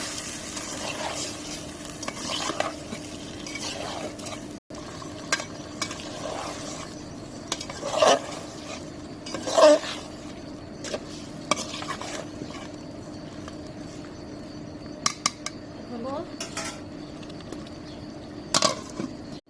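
Goose meat with ground spice paste and turmeric being stirred in a pan, a quiet continuous sizzle under scattered utensil scrapes and clinks against the pan, close by with no speech.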